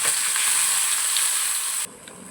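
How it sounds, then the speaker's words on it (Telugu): A spice paste with cumin seeds sizzles hard in hot oil for paneer masala curry. The frying hiss is steady and loud, then drops abruptly to a softer sizzle near the end. "ఒక టూ మినిట్స్ అయితే బాగా ఫ్రై చేసుకోవాలి దీన్ని"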